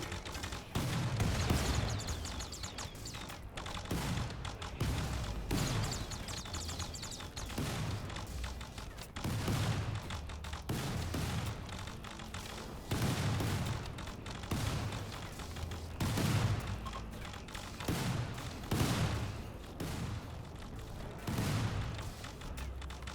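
Gunfire rings out in a RimWorld video game battle, with repeated bursts of shots and booming volleys coming in irregular clusters throughout, moderately loud and with no talking.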